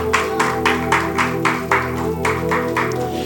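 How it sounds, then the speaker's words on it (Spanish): A church congregation claps in unison during a Spanish-language sermon. About eight loud, regular rhythmic claps land over a sustained musical tone or organ-like drone, with no speech. "aplauda al Señor."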